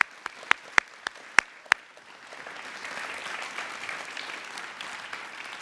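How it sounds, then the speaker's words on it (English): At a school's Year 6 and Year 9 promotion event, class 6S gets a last round of applause: several sharp, isolated claps ring out first, then a fuller, steady ovation rises and holds. "Let's give 6S one last round of applause."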